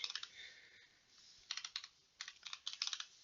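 A computer keyboard clicks as a password is typed, with quick irregular bursts of close, crisp keystrokes and short pauses between them, no talking.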